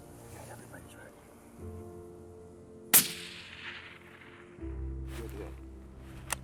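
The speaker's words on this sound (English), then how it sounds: "She made a great shot." A single sharp 6.5 PRC rifle shot fired at a mule deer during an Idaho rut hunt, loud and near, with low wind or background rumble before and after and faint talk around it.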